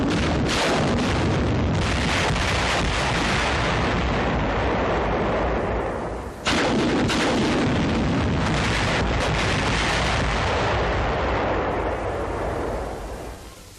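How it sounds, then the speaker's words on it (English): In 1944 wartime footage, a salvo of ten T-40 demolition rockets blasts a Japanese pillbox. Heavy booming detonations roll continuously into a dense, loud roar, with one brief dip midway before the barrage resumes. "10 rockets are fired at the pillbox."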